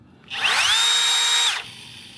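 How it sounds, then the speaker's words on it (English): A Bosch 18-volt cordless trim router whines up to speed, holds a steady high spin for about a second, then its electric brake halts it abruptly, leaving quiet background. "It has a really nice brake, so it's going to actually stop the tools from spinning as soon as you turn off the trigger."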